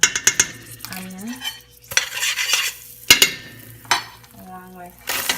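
Garlic stirred into melted butter in a pan on a home stove, with intermittent scraping and clinking of a utensil against the pan over a soft sizzle, broken by brief bursts of voice.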